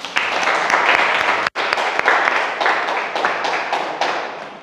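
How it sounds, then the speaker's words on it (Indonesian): A class applauds at the end of a lesson, with many hands clapping steadily and densely for several seconds, a brief gap, then continued clapping that slowly tapers. "Sekali lagi kita beri aplaus dulu untuk kita semua"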